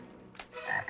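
Short frog croak, a brief raspy burst followed by a rising nasal call, fairly faint and on its own with no talking.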